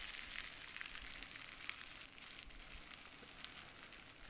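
A Maggi noodle murtabak with egg fries gently over low heat in a pan, a soft steady sizzle and faint crackle that runs unbroken throughout, with no talking.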